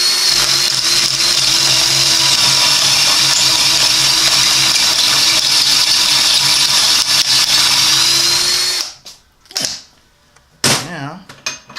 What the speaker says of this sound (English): once this drill bit binds up in there, you can't get it out.